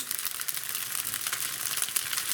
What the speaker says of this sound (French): Je vais les remuer pour pas qu'ils collent. Ça dépend de votre poêle. Moi, c'est une poêle en fonte.